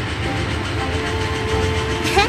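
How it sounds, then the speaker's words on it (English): A cartoon electric train runs along steadily, a mid-loud rolling rumble with faint tonal hum that stays even, and a brief bright squeak near the end. "Electric train?"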